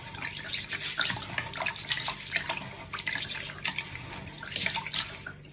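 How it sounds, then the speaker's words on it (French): Japanese rice being rinsed in water, with steady running and sloshing water and brief splashy bursts throughout, close and fairly loud, with no talking. "on va jeter de l'eau et on met encore une fois de l'eau plein"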